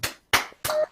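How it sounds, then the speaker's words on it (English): Graduates at an online manufacturing graduation ceremony clap over a video call: three or four short, loud bursts of hand claps separated by brief gaps, with a faint steady tone in one burst. "Now unmute yourselves and give yourselves a round of applause"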